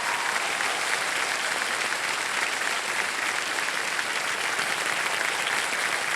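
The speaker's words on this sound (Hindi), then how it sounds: "ताली शोर मचाते रहिएगा" A studio audience on the quiz show Kaun Banega Crorepati Season 17 bursts into sustained applause, a dense, even roar of clapping that holds steady without a break.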